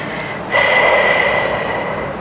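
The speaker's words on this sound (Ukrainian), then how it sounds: "Вдих." One deep, loud breath is drawn in close to the microphone during a flat-belly breathing exercise, a sudden rush of air that holds steady for nearly two seconds.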